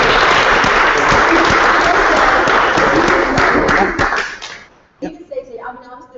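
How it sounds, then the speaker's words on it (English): Audience applause at a civic talk, loud and close, with many hands clapping steadily for about four seconds before trailing off, after which a voice begins speaking. "I want to give a quick applause to Asbed."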